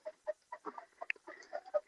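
Chickens cluck in short, close bursts while pecking at feed, a quick irregular run of calls with a rooster among the hens and no talk over them.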